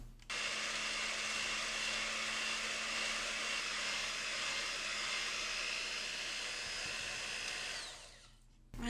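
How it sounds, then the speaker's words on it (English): An electric hand mixer fitted with a whisk attachment whirs steadily for about eight seconds while whipping hot chocolate pudding, a loud continuous motor whine that stops abruptly at the end. "I'm just using a whisk attachment to my electric hand mixer, and I'm going to whisk this until we get a pudding consistency."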